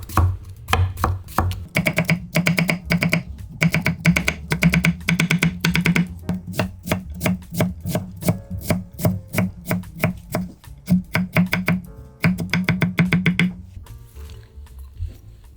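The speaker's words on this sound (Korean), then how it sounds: "오이도 곱게 채 썰어서 다져줄 거예요." Cucumber being finely julienned and minced with a knife on a cutting board, rapid bursts of crisp rhythmic chopping close up, pausing briefly between runs, with no talking.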